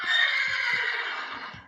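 Horses neighing loudly in Minecraft with the Hexxit modpack, a sustained shrill whinny close up that fills nearly two seconds, with faint soft thuds underneath.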